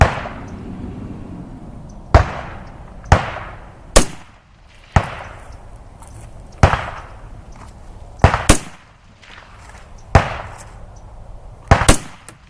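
Rifle shots fired at a distant steel target on an outdoor range, about ten sharp loud cracks spaced a second or two apart, each ringing out with a decaying tail and a faint ping of distant steel.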